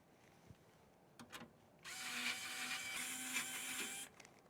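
A power driver removing side panel screws from a HAVN BF 360 Flow computer case, a steady whirring run of about two seconds after a few faint taps, close and moderately loud, with no talking.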